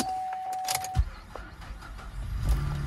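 A Cadillac with about 143,000 miles, suspected of needing a jump, cranks and starts at a car auction, with a brief high tone and a short crank burst followed by a low idle, heard close up.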